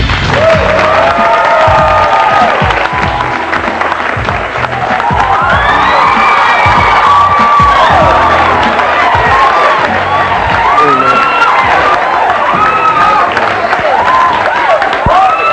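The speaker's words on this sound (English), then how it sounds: "You'd have thought Denzel walked in the room the way this crowd went crazy." A talk-show studio audience erupts in loud, sustained cheering, whooping and shouting with scattered applause, a dense continuous roar of many voices close by for the whole stretch.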